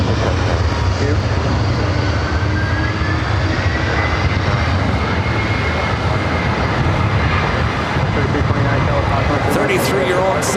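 A Delta Boeing 767-300ER jet at LAX rumbles with a loud, steady roar as it takes off from runway 24 right, the engine noise constant and close throughout.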